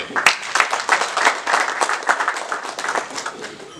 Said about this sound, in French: action du Rotary Club Gasabo, que je demande d'applaudir